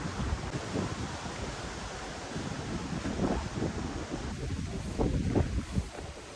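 Steady wind rushes and rumbles against the microphone, rising into stronger gusts toward the end, with no one speaking.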